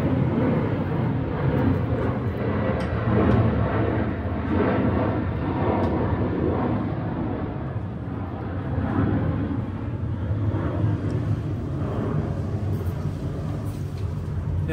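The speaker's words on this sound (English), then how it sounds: "I've got a plane going overhead" An airplane passes overhead outdoors as a steady, broad low rumble that holds for the whole stretch, fairly loud and continuous, with no talking over it.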